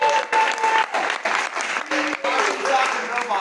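An audience at a youth league ceremony breaks into steady, dense clapping that stays loud throughout, with voices and cheering mixed in.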